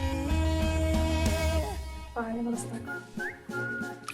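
Whistling carries a bright melodic line through a K-pop song, riding over the band and vocals at moderate loudness for a few seconds.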